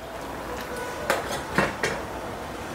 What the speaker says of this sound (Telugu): సో ఇంకా ఆఫ్ చేసేసి మూత పెట్టి వదిలేద్దాం.